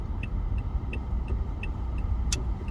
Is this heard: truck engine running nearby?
yes